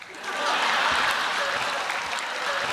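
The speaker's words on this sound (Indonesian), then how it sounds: "Tepuk tangan buat saya" Audience applause at a stand-up comedy show in Indonesia, a dense, steady wash of clapping that swells in quickly and holds loud and close for the rest of the moment.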